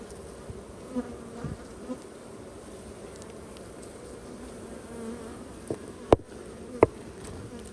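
Honey bees buzz steadily around an opened hive during a queen replacement, a dense close hum throughout with a few sharp knocks and taps from hive frames near the end.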